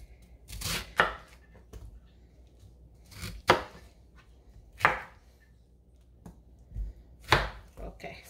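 A knife cutting through pineapple fruit on a board, roughly ten sharp chopping thuds at an irregular pace, close and distinct against a quiet background.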